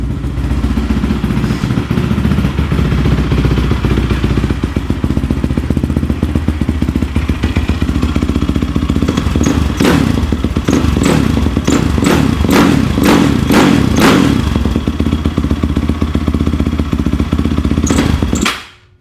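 Yamaha YFZ450 quad engine running close by, a loud steady rumble with a burst of sharp clattering thumps midway, then cutting off at the end.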